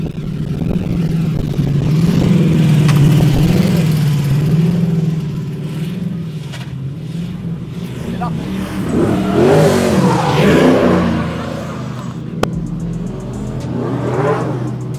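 A powerful drift car's engine revs and roars at a round of the French drift championship, surging and easing in loud waves with tire noise, heard from the trackside crowd area.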